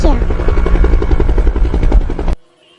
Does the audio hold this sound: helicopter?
yes